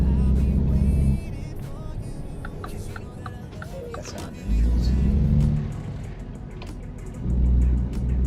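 A truck engine in a driving simulator game drones and swells in loud low-pitched bursts, rising three times between quieter stretches while someone talks over it.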